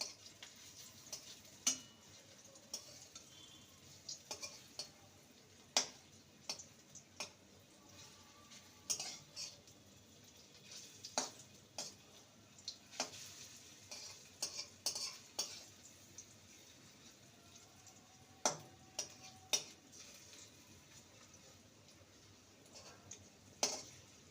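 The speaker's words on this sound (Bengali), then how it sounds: "একবারে ভাজা যাবে না দুবারে ভেজে নেব" Raw banana fulori frying in oil as a vegetarian snack is cooked: a faint, low background sizzle broken by frequent sharp clicks and taps of a utensil against the pan.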